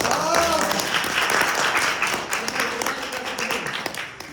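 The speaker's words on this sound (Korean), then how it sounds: "박수 한번 주시죠." Lecture-hall audience applauding during a mathematics class, a dense, steady patter of claps that fills the room and slowly thins toward the end, with a faint voice at moments.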